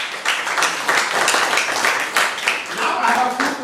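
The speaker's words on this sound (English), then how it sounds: "applause from us" An audience at a Rotary club gathering applauds: dense, continuous clapping from many hands, fairly loud and close, lasting a few seconds.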